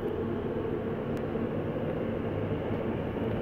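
An Elizabeth Line train running from Woolwich to Abbey Wood in London, a steady close rumble and roar from inside the carriage that stays even throughout, with no talk.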